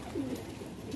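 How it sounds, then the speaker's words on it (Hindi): Pigeons coo briefly once or twice, a soft low call at moderate distance against faint outdoor background. "देखिए उधर भी उड़ गए कबूतर"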